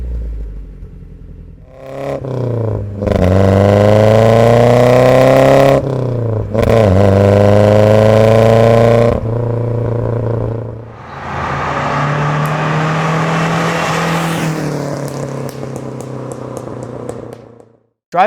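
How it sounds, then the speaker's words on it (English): A loud Triumph TR7 exhaust with long-tube headers and a cherry bomb muffler roars as the engine revs repeatedly, pitch climbing with each pull, then a harsher, raspier run before cutting off. "It has long tube headers that feed into a cherry bomb muffler, so it's quite loud"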